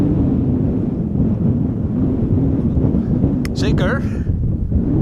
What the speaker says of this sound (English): Ja, het is echt veel te winderig.